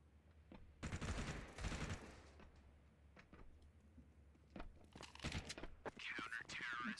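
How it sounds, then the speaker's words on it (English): Rapid bursts of MP9 submachine gun fire in a Counter-Strike esports match, with loud volleys near the start and more shots later, under a caster talking over the game. "Bev farming with the MP9"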